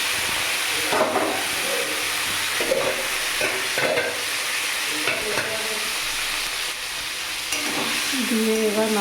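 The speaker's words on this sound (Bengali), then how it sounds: "এখানে কড়াইতে তেল দিয়ে দিয়েছি, তেলটা গরম হয়ে গেছে। এবার এখানে চিংড়ি মাছগুলো দিয়ে দেবো।" Shrimp hit hot oil in a wok and sizzle steadily, with scraping stir strokes and a few bursts of crackle close by and no talking.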